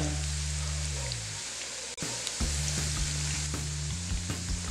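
Potato chips frying in hot oil in a kadhai while being stirred and turned, a loud continuous sizzle with a low hum beneath and occasional scraping clicks.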